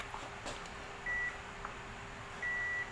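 A multimeter sounds a steady electronic beep twice while BD139 and BD140 transistors from a 150-watt OCL power amplifier are tested. The beeps are clear, evenly pitched and held briefly over a low background hum.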